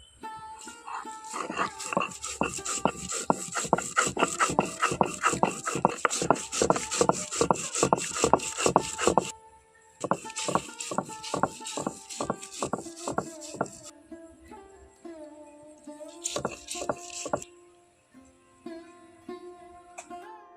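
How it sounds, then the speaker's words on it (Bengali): Stone grinding slab working thankuni leaves into paste, a fast rhythmic series of close scraping strokes that pause, resume more sparsely, and trail off amid clanks and kitchen noise. "এখন আমি এই ধানকুনি পাতাগুলো শিলনড়াইতে বেটে নেব"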